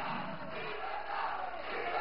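National Assembly members in session applauding and calling out, a continuous, fairly distant crowd clamor of mixed clapping and voices with no clear pauses.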